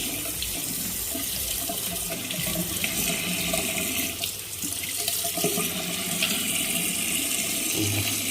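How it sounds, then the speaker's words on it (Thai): Water from a tap runs steadily and loudly as a Daikin air purifier filter is rinsed at a sink, with a continuous splashing hiss and no talk. "ตัวฟิลเตอร์พวกนี้เนี่ย ต้อง ล้างจากข้างในออกข้างนอกนะครับ"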